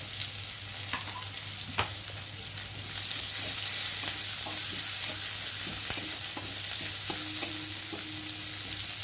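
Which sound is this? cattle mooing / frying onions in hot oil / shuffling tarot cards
frying onions in hot oil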